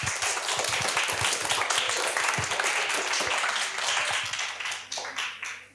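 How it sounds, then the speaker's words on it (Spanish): An audience at a school talk with a writer, students from sixth to eighth grade, breaks into steady applause, a dense wash of clapping that carries on for several seconds and then tapers off. "Un aplauso."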